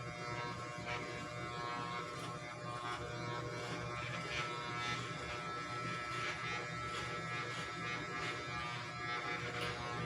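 An electric shaver buzzes steadily and quietly with an even mains-like drone while someone shaves. It runs continuously without pauses and with no speech over it.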